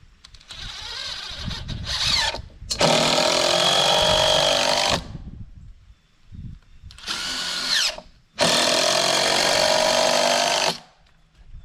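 Power drill or impact driver sinking screws through ICF foam block into a 2x6 on a construction site, two long bursts and a shorter start-up whir, close and loud with brief pauses between.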